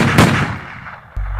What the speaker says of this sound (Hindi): माइकी उस पर गोली चला देता है।